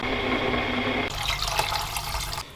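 Water runs into a container, one liter being measured out for boiling, first as a low tonal filling sound and then as a brighter, splashy pour for the last second and a half, close and steady.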